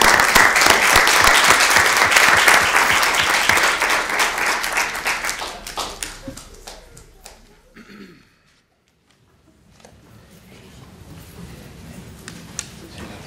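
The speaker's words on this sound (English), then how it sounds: "Give everybody a round of applause again." An audience at a Madison schools meeting applauds loudly and steadily, then the clapping thins and fades into a near-silent room with scattered small sounds.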